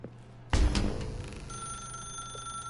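A telephone rings in a video game, a sudden loud electronic ring that sets off with a thump and keeps going as a sustained bell tone.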